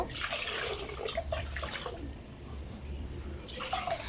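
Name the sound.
water poured into lentils in a clay pot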